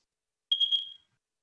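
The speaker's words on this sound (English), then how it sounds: "Somebody's smoke alarm is going off." A smoke alarm with dying batteries chirps in a short burst of three high-pitched beeps, fairly clear against an otherwise silent room.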